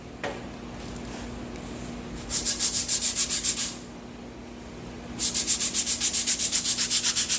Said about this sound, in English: And it's very easy to sand.